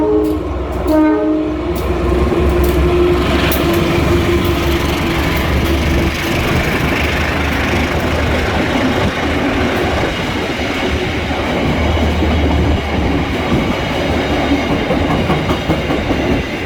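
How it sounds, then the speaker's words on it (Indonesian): Serayu passenger train running straight through Nagreg station without stopping, a loud, sustained rumble with clattering wheels and a horn near the start, staying close for the whole stretch. "Kita akan mempersilahkan kereta api Serayu untuk melintas langsung."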